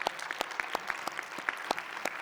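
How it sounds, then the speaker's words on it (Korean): A church youth worship congregation claps in a fairly faint, loose rhythm, with distinct individual claps spaced irregularly and no voices over them. "우리 새해를 여신 하나님께 우리 감사의 영광의 박수 한번 올려드릴까요?"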